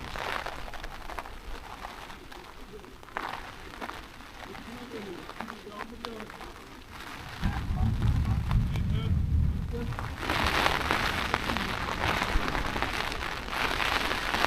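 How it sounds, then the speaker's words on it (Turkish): Steady heavy rain with strong gusts of wind at a campsite during a storm, growing louder and heavier toward the end, with occasional voices underneath. "Yağmur da böyle atıyor. Sesini duyuyorsun."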